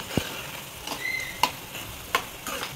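A spoon scrapes and taps in a pan of masoor dal, a spiced lentil dish, making a few sparse, separate clicks over a soft background sizzle.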